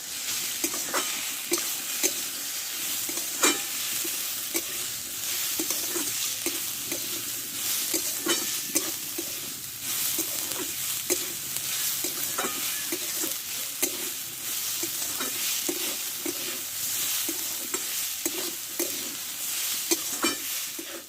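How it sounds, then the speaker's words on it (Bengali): Grated carrot stir-fried in a pan with grated potato, giving a soft continuous sizzle broken by regular scraping strokes of the spoon across the pan, fairly quiet and with no talking. "আর দেবো গ্রেট করা গাজর একটু ভালো করে কষে নেবে"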